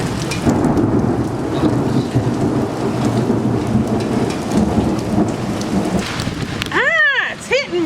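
Hail storm with thunder over a garden, a dense steady clatter and hiss of falling ice and rain with low rumbling beneath, followed near the end by a brief high sweeping whine.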